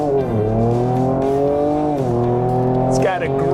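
A 2024 Ford Ranger Raptor with a turbocharged V6 drives hard, its engine note rising and falling through gear changes as a loud continuous drone, with a brief high tire squeal near the end.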